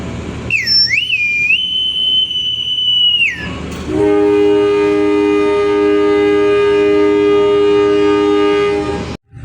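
A commuter train departs Lemah Abang station and passes a container train, beginning with a loud wavering two-tone horn blast, then a steady sustained whine and rumbling rail noise that fades out abruptly.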